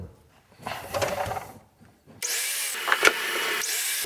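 Wood is cut at a 20-degree angle for an outdoor bench: first a rough, uneven rasping saw stroke, then after a pause a loud, steady whining power-saw run that cuts close by to the end.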